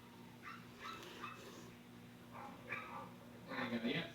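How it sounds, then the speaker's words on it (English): Several dogs bark, yip and whimper in short excited bursts, faint and somewhat distant, with quiet voices talking between the outbursts. "Perfect timing for the dog sound effects after the HEB announcement."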